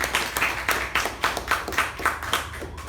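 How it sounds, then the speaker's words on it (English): Members at a club meeting clap together, a close round of roughly ten distinct, evenly spaced beats that sounds more like a rhythmic group clap than scattered applause. "Let's give ourselves a round of applause."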